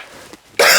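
A woman's single sharp, loud cough bursts out close by after a brief near-silence.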